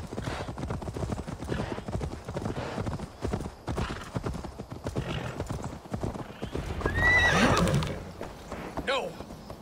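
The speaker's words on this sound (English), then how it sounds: "Get off the horse." Horse hooves clip-clop at a gallop in Assassin's Creed Valhalla, with a loud whinny rising near the end; game speech and music sit underneath throughout.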